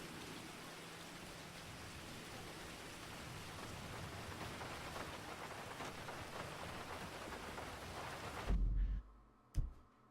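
Steady rain in Grand Theft Auto V pours as a dense, even hiss for most of the stretch, then stops abruptly near the end, leaving quiet broken by a couple of brief low thumps.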